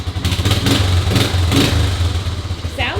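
The engine of a 1985 Honda Big Red 250ES three-wheeler runs close by, a quiet, fairly even chugging putter with slight pulsing, the exhaust sounding subdued.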